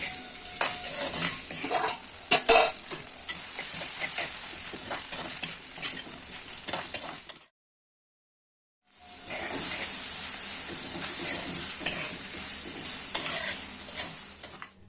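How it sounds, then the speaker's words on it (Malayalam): Onions with green chili and salt sauté in a pan for a Kerala fish curry, a steady loud sizzle with stirring scrapes, broken by a brief silence before the frying resumes. "ഉള്ളി നല്ലതുപോലെ ഒന്ന് വഴറ്റി കൊടുക്കാം."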